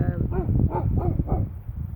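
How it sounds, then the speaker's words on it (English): A dog barks in a rapid series of four or five sharp, fairly close barks at an even rhythm, with a low background rumble underneath. "now he's barking like someone is coming"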